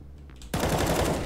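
Automatic gunfire in a competitive shooter game erupts abruptly after a quiet half-second and continues as a rapid, close burst of shots to the end.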